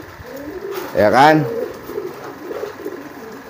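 A pigeon gives a loud rolling coo in the middle of the clip, close by. It is one of the pigeons being encouraged to mate. Someone talks briefly before and after it, with faint background noise around him.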